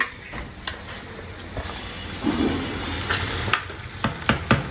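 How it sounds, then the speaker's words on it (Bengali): Meat fries in a hot wok with a steady sizzle, while scattered scrapes and knocks of stirring come through, growing busier toward the end. "কড়াইটা গরম করে মাংসগুলোকে একটু ভাজবো"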